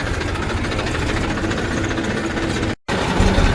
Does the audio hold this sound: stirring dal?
no